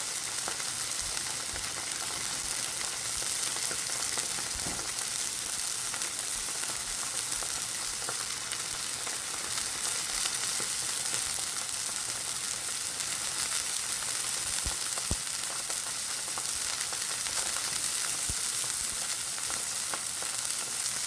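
Steady, loud sizzling and crackling of steak frying in a hot pan, continuous throughout with small pops scattered across it.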